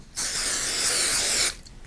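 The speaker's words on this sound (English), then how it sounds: "spray mount that on, and I wouldn't normally just spray mount straight onto the board" Spray mount adhesive hisses from an aerosol can in one steady, close burst of about a second and a half, then cuts off sharply into a quiet room.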